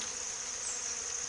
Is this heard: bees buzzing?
yes